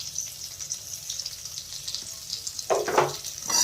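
Spices, onion and garlic fry gently in a pan for a soya chunks curry, a faint steady sizzle with a few louder bursts of crackle toward the end.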